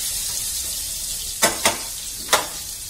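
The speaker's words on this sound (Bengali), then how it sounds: "আলুটা ভাজা হচ্ছে" Potatoes sizzling in hot oil with salt for a chicken curry, a steady close hiss broken by three short scraping stirs near the end.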